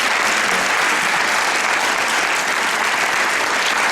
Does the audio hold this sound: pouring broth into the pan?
no